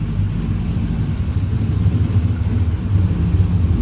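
A turbocharged 6.0 AWD Chevrolet Silverado running at its first start-up: a loud, close, steady low rumble with a slight pulsing throb and no speech over it.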